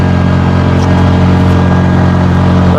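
A Bajaj RE auto-rickshaw engine labors up a steep uphill climb. It gives a loud, steady, close-up drone with a constant mechanical throb, and no voices are heard.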